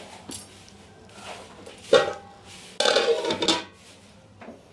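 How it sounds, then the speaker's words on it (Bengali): Metal lid lifted off a pot of lentils cooking with potato and pointed gourd, a couple of close clanks and a brief rattle over a low kitchen hum. "আমি আবারও ঢাকনাটা খুলছি"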